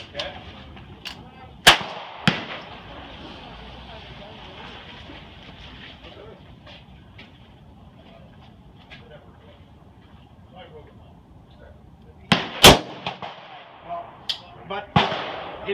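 Mosin Nagant rifle gunshots ring out outdoors: two sharp, loud cracks close together near the start, then a long gap, then a tight cluster of reports and echoes toward the end, with people talking quietly in between.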